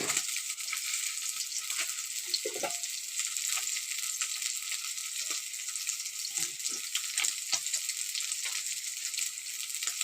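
Fish chops coated with a little semolina fry in hot oil in a pan, giving a steady, fairly quiet sizzle with scattered pops and crackles, no talking.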